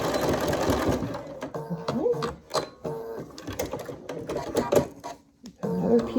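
A 570 sewing machine stitches quilt pieces in short, uneven bursts of rapid mechanical chatter, with pauses and small clicks between runs.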